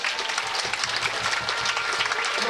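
Crowd applauding a junior champion at a Frisian fierljeppen (canal pole-vaulting) championship medal ceremony outdoors, a brief dense burst of clapping at steady volume, with faint voices murmuring underneath.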